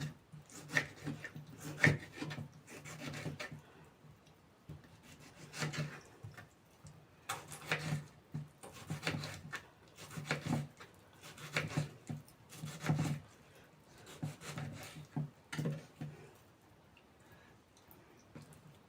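A knife slices through two tomatoes on a board in a string of rhythmic rubbing cuts, each stroke a short close rasp separated by brief pauses, with no talking.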